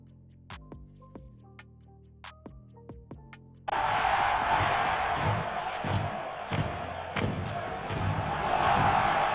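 Crowd ambience from a computer-generated scene: after a few seconds of sparse thumps and tones, a dense, steady wash of crowd noise rises and holds, with scattered louder bursts and thuds through it.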